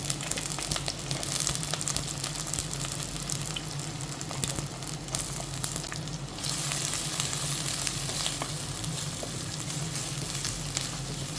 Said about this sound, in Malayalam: കടുകൊക്കെ പൊട്ടി വരുന്നുണ്ട് നമുക്ക് ആദ്യം തന്നെ ഒരു മൂന്നാല് വറ്റൽമുളകുകൾ ഇട്ട് കൊടുക്കണം